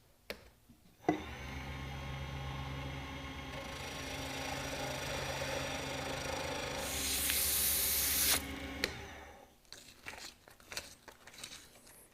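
Power sanding of a woodworking project before finishing, a steady broadband whirring hiss with a constant low motor hum that swells brighter near the end, then stops, followed by a few light handling knocks.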